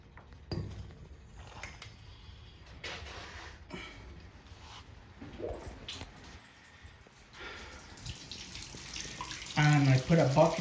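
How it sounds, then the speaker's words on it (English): Water trickles and sputters from a valve opened to bleed a boiler zone into a bucket, faint and intermittent at first, then louder gurgling bursts of water and air near the end. "you're gonna hear the water, the bubbles, when they come out"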